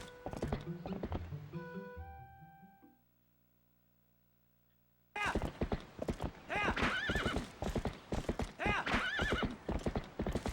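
Epona, the horse in the Twilight Princess video game, gallops with rapid clip-clop hoofbeats and gives loud neighs, set against game music with a near-silent gap in the middle.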